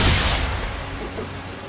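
Ship cannons fire in Assassin's Creed 3 during a naval battle: one loud, close boom opens the moment, then its rumbling roar slowly fades.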